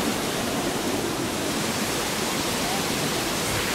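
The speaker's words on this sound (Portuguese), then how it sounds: "Pode ver que o barulho da água não tá tendo voz." Water rushes in a dense, steady roar, loud and close, with a constant broadband hiss and no voices over it.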